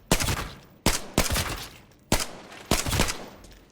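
AK12 rifle fire in Arena Breakout Infinite: four loud, sharp bursts of rapid shots, each ringing out and tailing off before the next, spaced unevenly over a few seconds.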